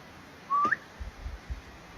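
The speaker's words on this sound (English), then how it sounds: "I'm gonna do a whistle and see if we hear anything" A person gives one short, rising whistle outdoors on a hillside. It is clear and close, followed by faint low rumbles in the quiet afterward.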